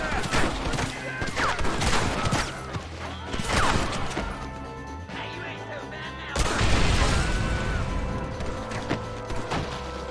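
Gunfire in the video game Red Dead Redemption during an assault, with scattered shots and sharp cracks, a loud burst of fire about midway, and a continuing busy din of combat and game voices underneath.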